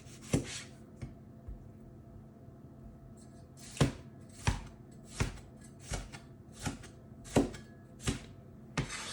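A knife chops tomato into wedges on a board, with a dozen or so crisp, close cuts spaced irregularly, some in quick pairs, against a quiet room.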